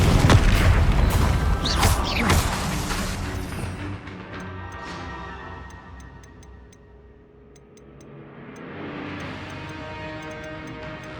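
A Confringo spell explodes in a Harry Potter video game with a loud, close boom and crashing burst that dies down into softer ticking and whirring effects.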